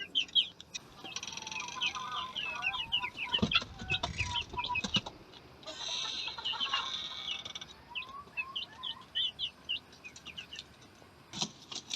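Young Indian game (Shamo) roosters and hens cluck and call repeatedly in a busy, chattering flock, with scattered chirps and occasional rustling nearby.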